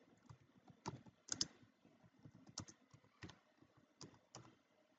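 Keys clack on a computer keyboard while C++ code is typed, a quiet, irregular run of sharp taps with a few louder strokes, close by and alone.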